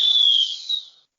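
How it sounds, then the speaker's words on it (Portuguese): A single loud, high whistle blast marking the end of a football podcast episode, sustained for about a second with a slight warble before cutting off cleanly. "Apito final no Boleirando de hoje"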